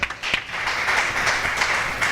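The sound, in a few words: congregation applauding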